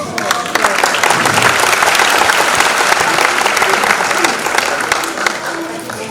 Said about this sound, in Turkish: siz değerli misafirlerimizin coşku dolu alkışlarına teşekkür ederiz